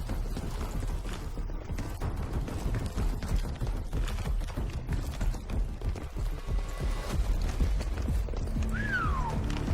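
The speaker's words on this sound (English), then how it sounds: "Saddam's horse" Saddam's horse in Call of Duty Black Ops 6, hooves clip-clopping at a steady trot amid rumbling game ambience, fairly close and continuous, with a short whinny near the end.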